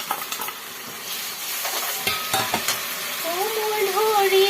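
Onions frying in a pan with ginger, garlic, turmeric and chili powder, a continuous close sizzle with scraping stir clicks; a voice briefly sounds near the end.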